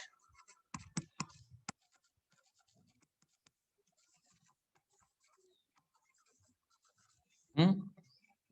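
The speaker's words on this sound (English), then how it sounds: "let me write basic unit of charge" Chalk or marker writing on a board during an electrostatics lesson, a short burst of quick tapping strokes at the start, then near silence before a brief voice.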